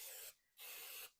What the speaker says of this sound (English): So then I usually spray this over my sink